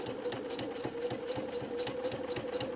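A sewing machine stitches a quarter-inch quilt seam with a quick, steady rhythmic whir and ticking needle strokes, faint and close, running continuously without talk.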